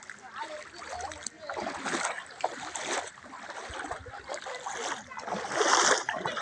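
Feet splashing and sloshing through shallow river water near Sringeri, irregular close splashes and swishes with soft flowing water around them.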